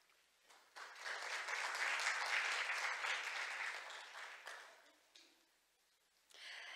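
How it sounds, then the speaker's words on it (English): Conference audience at a science and technology forum applauds a speaker, the clapping swelling quickly, holding for several seconds, then fading to near silence before a brief burst of renewed sound. "please give him a big round of applause"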